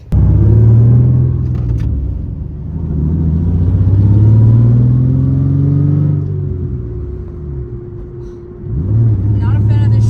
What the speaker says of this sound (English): This car's making all sorts of noises.